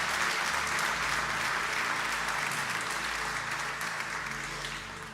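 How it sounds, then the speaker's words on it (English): A church congregation at a Sunday morning service applauds departing small group leaders, giving a dense, steady round of clapping from a large crowd that fades slightly at the end, with no voices standing out. "Why don't you guys give them a round of applause as they head off."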